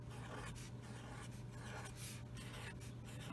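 A pen drawing shapes on paper for a math word problem, giving repeated scratchy strokes in several short bursts, close and fairly quiet, over a constant low background hum.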